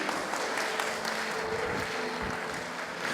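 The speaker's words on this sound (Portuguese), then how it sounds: "aplauda bem forte a Jesus" Congregation in a church service clapping steadily for Jesus at a preacher's call, a dense continuous wash of applause lasting a few seconds with no talking over it.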